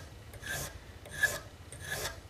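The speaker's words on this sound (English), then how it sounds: "it's really important that you just put really light pressure on the file." A metal file strokes lightly along a head in three slow, evenly spaced rasping passes, each a soft, airy scrape about a quarter second long, close and quiet with no voices.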